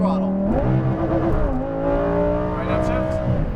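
A Lamborghini Huracan Performante accelerates at full throttle on a Las Vegas race track, its engine loud and close, pitch climbing in steady sweeps with quick drops at gear changes, while an instructor talks over it.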